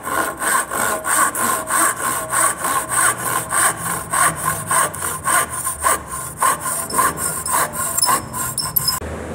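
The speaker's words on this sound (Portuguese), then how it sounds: "Vamos lá então cortar os dentes do garfo." A hand saw cuts the teeth of a handmade wooden fork in steady back-and-forth strokes, a loud rasping rhythm of about two strokes per second that continues throughout, close up with no talking.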